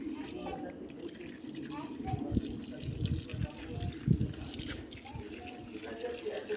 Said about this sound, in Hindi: पानी देते हैं।